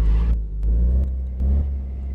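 A car engine idles and rumbles close by while the car is backed into a garage shop, its low drone swelling and easing a few times with throttle.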